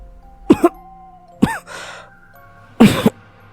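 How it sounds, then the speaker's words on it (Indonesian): Three harsh coughs come close together, each a sharp double burst, with a strained breath between the second and third. "Terdengar suara batuk"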